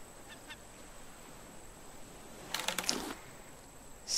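A seagull in the survival game Raft gives a short burst of harsh, honking calls partway through, standing out over a quiet, steady background.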